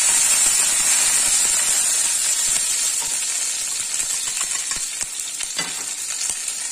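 Curry leaves sizzle in hot oil for fish pollichathu, a loud, steady hiss and crackle with scattered small pops that eases slightly toward the end.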